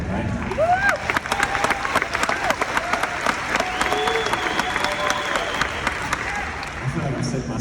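Conference audience applauding during a keynote talk, steady sharp clapping from a large crowd with someone speaking over it.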